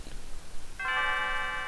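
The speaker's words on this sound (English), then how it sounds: "And then the bell goes off." Bell in the Chrono Trigger fair scene, a bright sustained ding-dong tone that rings out suddenly and holds clearly, no talk over it.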